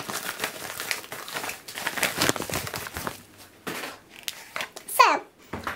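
Parcel packaging around a K-pop album is torn open with bursts of crinkling and ripping that come and go, close by. A voice and other speech mix in between the noises.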